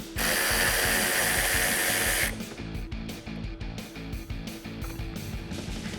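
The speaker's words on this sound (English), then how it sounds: "grab a 7mm socket and a ratchet and go ahead and get these removed" A 7mm socket on a ratchet loosens a license plate light bolt on a 2019-2021 Silverado or Sierra 1500 bumper. Quick metallic ratchet clicks follow a loud hiss that stops abruptly early on.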